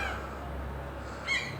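Seagulls call as they eat frozen bread outdoors, a short, sharp cry rising near the end over a steady low background rumble.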